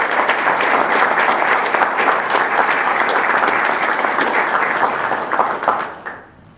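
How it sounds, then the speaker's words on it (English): At a Navy nuclear field school graduation ceremony, a large audience gives sustained, even applause that holds steady for about six seconds before tapering off. "Please join me now in a round of applause for the Navy's newest third-class petty officer."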